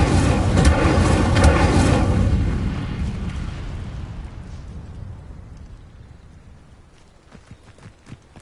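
An Incendio fire spell cast in Hogwarts Legacy bursts out as a loud, booming whoosh of flame that fills the first couple of seconds, then rumbles and crackles away into a long fading tail with a few small clicks near the end.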